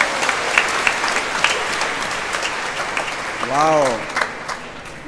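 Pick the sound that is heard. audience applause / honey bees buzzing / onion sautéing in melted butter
audience applause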